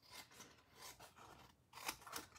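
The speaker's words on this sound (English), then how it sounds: "I like to open this up and just trim around the flap of the envelope" Scissors trimming paper around the opened flap of an envelope: several close, crisp snipping cuts in an uneven rhythm, each a short rasping slice, quiet overall with no talk.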